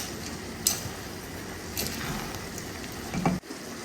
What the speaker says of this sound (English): So I'll go ahead and add my toasted spaghetti and then we stir it in.